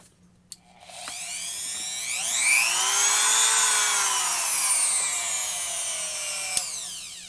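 A Tacklife RTD36AC 200W rotary tool fitted with a worn, used Dremel brush spins up after a click, holding a loud high-pitched whine with shifting tones for several seconds before slowing slightly.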